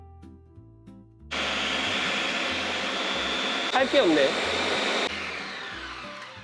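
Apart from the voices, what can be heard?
blender grinding tomatoes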